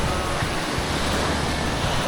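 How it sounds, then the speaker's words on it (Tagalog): Ocean waves wash steadily onto a Bicol beach with a small sandbar, a broad, close, continuous roar of surf with some wind across the microphone. "Iba yung alon dito sa kaliwa, iba yung alon sa kanan."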